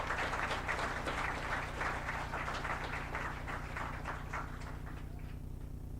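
An audience at a moot court prize distribution ceremony gives a round of applause for the participating teams. Many hands clap steadily at a moderate level over a low constant hum, tapering slightly toward the close.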